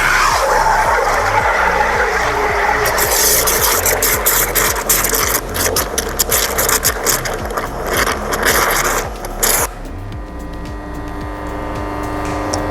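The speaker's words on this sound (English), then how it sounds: "Now with my pressure washer, with the nozzle under the water level, I'm gonna completely mix it up." Pressure washer nozzle held under the water line in a bucket of warm water and car shampoo, churning it into foam: a loud motor drone with rhythmic pulsing and turbulent bubbling, then easing to a quieter hum.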